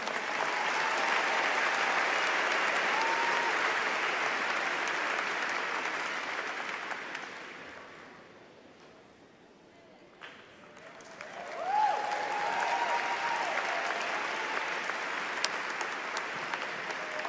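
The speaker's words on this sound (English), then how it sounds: "Let's give him a round of applause." Graduation ceremony audience at Fort Collins High School applauding, a broad sustained wave of clapping that fades out midway, then swells back up and continues steadily, loud and full-room.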